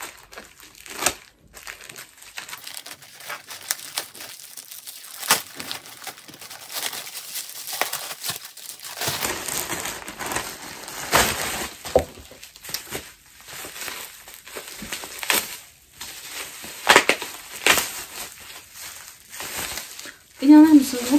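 Plastic shopping bags crinkle and rustle in bursts while books are unpacked at home, close and fairly loud, with a person talking intermittently throughout.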